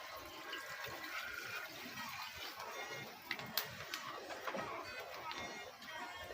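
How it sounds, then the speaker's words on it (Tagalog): Water poured into a cooking pot, a continuous hissing splash of liquid running steadily in a quiet kitchen, with a few clinks toward the end. "butangan og tubig"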